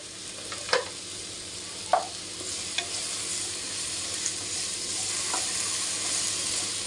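Curry sautés in a pan with a pinch of salt, a steady low sizzle of oil under a few distinct scraping stirs of a spoon, close and moderate in level with no voices.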